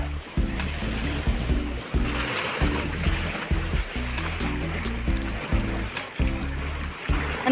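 Strong water rushes and churns at a cliff diving spot, a dense, steady roar with surging low swells, fairly close and loud, with no talking.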